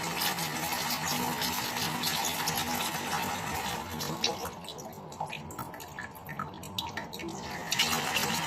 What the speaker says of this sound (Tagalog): linisin muna natin ng tubig bago natin lagyan ng tubig na pampakulo